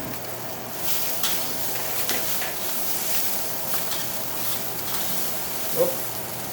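Garlic sautéing with softened onions and vegetables in a pan for chicken cacciatore, a steady low sizzle and hiss running throughout with faint clinks of stirring.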